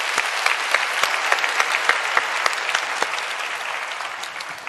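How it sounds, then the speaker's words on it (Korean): A church congregation gives encouraging applause for students and their teachers at a Sunday service, a sustained, even patter of many hands with sharp individual claps standing out throughout. "격려 박수하도록 하겠습니다"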